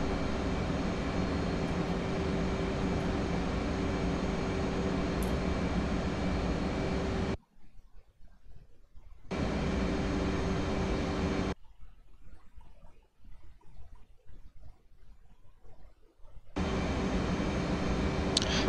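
The F/A-18 Hornet's jet engine in the DCS flight simulator, on a ferry flight, gives a steady loud roar that cuts out twice into near silence before returning. There is no talk.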